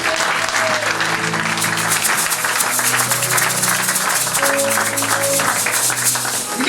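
Church congregation applauding steadily and loudly, a dense wash of clapping hands that runs unbroken throughout, with music playing underneath.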